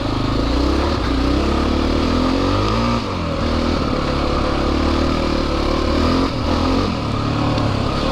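Honda XR400 dirt bike engine revving steadily and loudly up close, the motor's rough throbbing drone rising and falling between gears across the whole stretch, with no talking.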